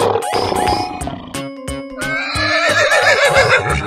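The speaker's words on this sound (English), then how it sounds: "Horse." A horse neighs loudly in a long, wavering whinny, layered with other animal roars and calls in a noisy, cartoonish sound montage.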